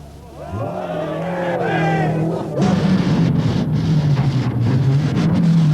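Ari Vatanen's rally car overcooking a corner on the Glen of Arlo stage of the 1982 Circuit of Ireland rally, engine note rising then roaring loud and close with gravel and wind noise, a voice talking over it at first.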